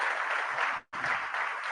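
Audience applause welcoming Suresh Bishnoi, selected at 11th rank in the RPSC 2nd Grade English exam: steady, dense clapping from a crowd that breaks off for a split second midway, then resumes at full strength, with no talking.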